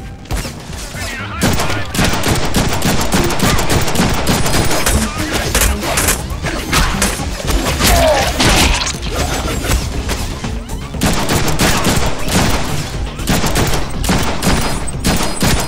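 Gunfire in Deadpool: The Video Game, loud, dense bursts of shots and impacts rattling almost nonstop, with crashes and thuds mixed into the barrage.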